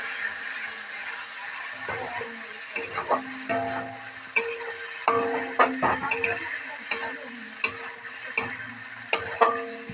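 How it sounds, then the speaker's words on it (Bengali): Beans fry in a pan with a steady, bright sizzle while a spoon stirs and scrapes them, giving irregular clicks and knocks against the pan, close and loud with no talking. "এখন আমরা ভালো করে নাড়িয়ে নিব।"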